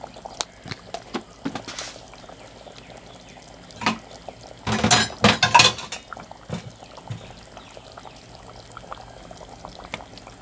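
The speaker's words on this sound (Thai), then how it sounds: "ใส่น้ำปลาเนาะจ้ะ" Fish sauce is poured into a Thai coconut curry with chicken feet. A few soft clicks and drips come first, then a short splashy pour midway, then quieter kitchen noise.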